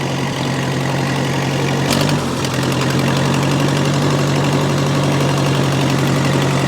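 A vehicle engine runs in first gear close by, giving a loud, steady low rumble with a rough, knocking vibration. A brief clunk comes about two seconds in, with no talk.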